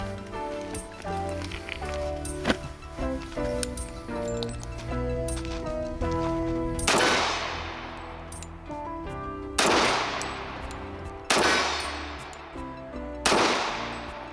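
A Colt Gold Cup Trophy stainless 1911 pistol fires four sharp, echoing shots at a 21-yard target, spaced a second or two apart, over steady background music.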